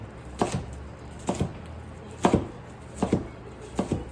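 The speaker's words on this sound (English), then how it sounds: "Guys, I suck at cutting onion." Knife chopping an onion on a cutting board: five pairs of crisp, close chops spaced about a second apart, alone with no talking.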